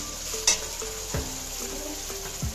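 Spice paste frying in oil for katla kalia, a steady sizzle close up with scraping stir strokes and occasional spoon taps on the pan.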